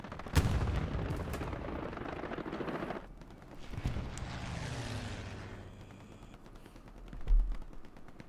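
FG-42 rifle fire in the World War II shooter Hell Let Loose, with a few sharp, loud reports spaced seconds apart over a rumbling battlefield background.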